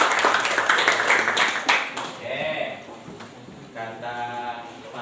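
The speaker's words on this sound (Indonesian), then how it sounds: "Terima kasih, tepuk tangan untuk semua." Clapping from an audience at a village-resources coaching session, a burst of applause in the first two seconds that fades as speech continues.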